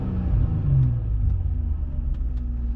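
A 2003-2007 Infiniti G35 engine fitted with a 75mm throttle body rumbles close by with a few throttle blips: a brief rise in revs, then a steady idle.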